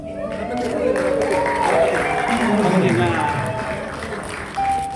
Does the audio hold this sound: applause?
yes